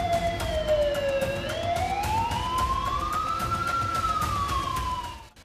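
A loud ambulance siren sweeps down, then slowly up and down again in a long wail, passing close before fading at the end, at a missile strike site in Israel.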